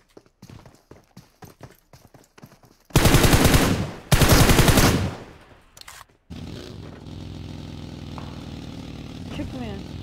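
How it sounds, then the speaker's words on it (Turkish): Gunfire in the PUBG Mobile battle royale game: scattered single shots at first, then two loud sustained bursts of automatic fire close by, followed by quieter ongoing game noise with a voice talking. "Silah sesleri duydun mu?"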